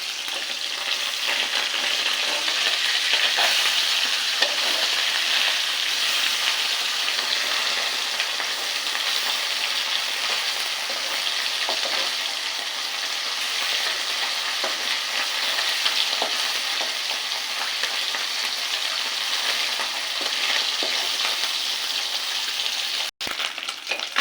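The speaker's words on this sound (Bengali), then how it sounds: "কড়াইতে তেল গরম করে মাছ ভেজে নিচ্ছি" Fish frying in hot oil in a wok, a steady, loud, continuous sizzle and crackle holding evenly throughout with no talk.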